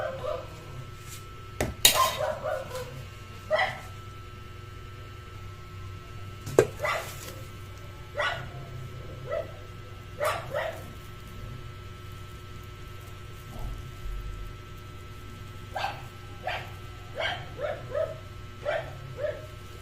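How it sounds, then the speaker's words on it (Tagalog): A dog barks in short scattered bursts some distance away, with quiet gaps between, over a low steady background hum. "Ingay ng aso guys, kaya pagpasyensyahan nyo na"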